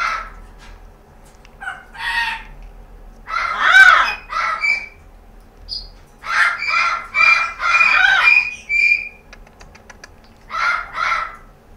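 A grey parrot named Felix calls out in a series of loud, close squawks, whistles and chattering bursts, spaced irregularly with quiet pauses between them.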